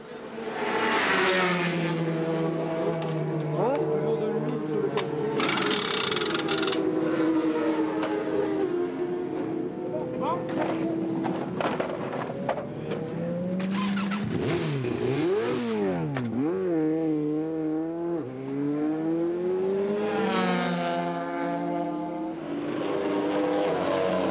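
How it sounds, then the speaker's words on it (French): Kawasaki racing motorcycles at a team pit stop during the 1992 Bol d'Or endurance race wail past and rev hard, engines rising and falling in pitch as several bikes scream by at close range over a continuous roar. "Changement de pilote au stand de l'équipe Kawasaki, une routine."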